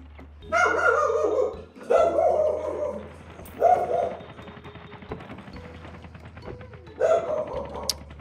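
A dog in the hospital game Two Point Hospital barks in four separate bursts of short yapping woofs with pauses between them, loud and close over a low steady hum.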